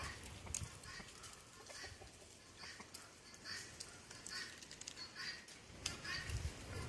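Chickens cluck and call in a farmyard as they hurry toward someone bringing their feed, a new hen among them, with scattered bursts of clucking and rustling over steady low background noise.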